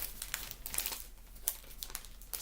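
Paper packaging of a scrapbooking supplies parcel crinkling and tearing as it is opened, quiet rustling with several sharper crackles in quick succession, close by.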